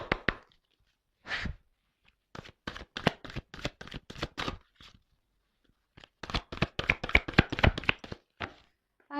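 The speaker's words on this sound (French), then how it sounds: "Ah, les cartes, elles sont très grandes. Elles font presque la taille de ma main. Alors, c'est pas simple des fois pour les secouer." Large tarot cards, nearly hand-sized, shuffled in two bursts of rapid, crisp riffling flaps and taps, close and fairly quiet with silent gaps between.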